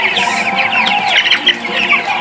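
Broiler chicks cheep constantly in a dense, overlapping chorus of high, close peeping, with no voices over it.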